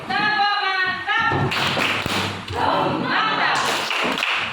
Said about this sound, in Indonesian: kita tepuk mantap dulu ya